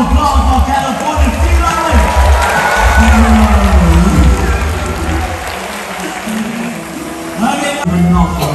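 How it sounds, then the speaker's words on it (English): An audience at the Singapore Zoo California sea lion show claps and cheers in a loud, continuous wash, while a presenter's amplified voice talks over it. "a big round of applause for California"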